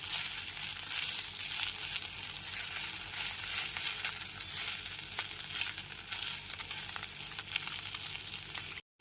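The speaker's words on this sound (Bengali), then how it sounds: "গ্যাসের ফ্লেমটা লোতে রেখে আদা রসুন বাটাটা পেঁয়াজের সাথে খুব ভালো করে কষিয়ে নিচ্ছি" Ginger-garlic paste being fried with onions over a low flame, a steady soft sizzle running evenly throughout with no talk, cutting off abruptly at the end.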